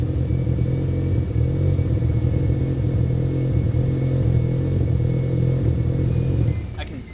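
A turbocharged Mazda RX-7 rotary engine in a 2200 lb car makes 700 HP on a dyno, a loud, steady, droning roar held for several seconds before it drops off.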